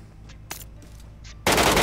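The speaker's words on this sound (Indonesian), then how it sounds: "Ada yang suara nembak" In a shooter video game, near-silence with a few faint clicks breaks into a sudden loud burst of automatic gunfire at the very end.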